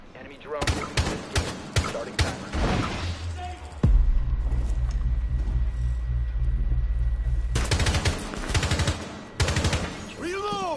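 Video game gunfire in a shooter match: bursts of rapid automatic shots and single cracks, then a sustained heavy rumble of continuous fire, while players talk over it.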